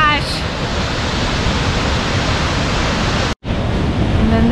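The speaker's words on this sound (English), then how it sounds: "there's a closer up of this falls, of the Cane Creek Falls." Cane Creek Falls roars as a loud, dense, unbroken wash of falling water close by, cut by one brief dropout, with a faint voice barely showing over it.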